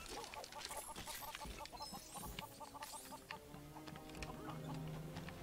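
Chicken clucking in the Lego Worlds video game, a string of short, fairly quiet clucks and pecking sounds layered over game effects and tones, with no speech.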